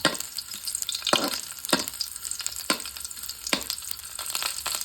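Ginger frying in a pan, a steady bright sizzle broken by four or five sharp scraping strokes of a spoon at roughly even intervals, close and fairly loud with no voices.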